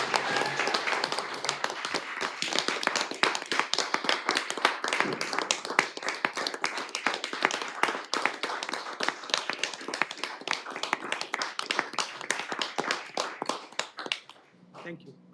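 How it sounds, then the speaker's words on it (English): A round of applause at a village board meeting: dense, sustained clapping from a room full of people for about fourteen seconds before it tapers off abruptly. "So we give him a round of applause."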